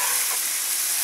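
Onion frying in hot fat in a pan, a loud, continuous close-up sizzle with a brief stirring scrape at the end and no voices.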